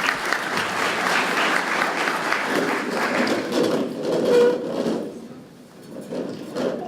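An audience at a community forum for eight candidates breaks into dense, sustained applause that thins and fades toward the end.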